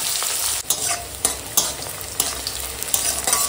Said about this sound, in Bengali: দিয়ে এখন ভেজে নেবো পেঁয়াজের সঙ্গে কাঁচা লঙ্কাটা